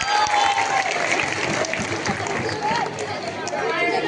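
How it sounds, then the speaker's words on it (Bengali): An audience applauds an actor after a school play performance at an extracurricular event, sustained clapping mixed with crowd chatter and voices throughout. "ওর জন্য একটা জোরে হাততালি হচ্ছে নিজের জন্য।"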